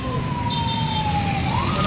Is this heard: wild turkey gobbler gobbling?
no